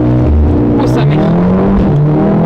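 A Mercedes CLA 35 AMG accelerates hard, its engine note climbing loud and close from inside the cabin in one sustained pull, with a passenger's voice over it.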